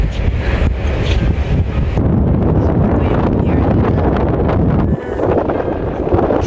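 Strong wind gusting at the stern of a ship in a Croatian harbour, a loud continuous rushing roar buffeting the microphone, with engine and water noise underneath.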